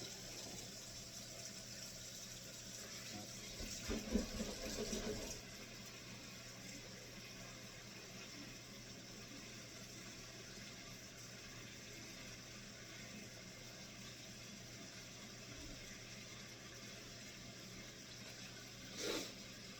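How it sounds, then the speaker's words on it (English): Cold tap water runs into a cooking pot in a home kitchen, a soft, steady gush with a brief louder splash early on, faint and continuous under room hum. "Fill your pot up with cold water."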